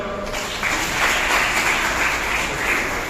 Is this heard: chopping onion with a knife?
no